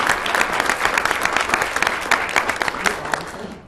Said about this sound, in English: Applaud if you are angry about that.